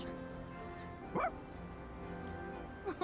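Dog barking in the Persona 3 Reload video game, a short yip followed by another brief bark near the end, over quiet game music and ambience.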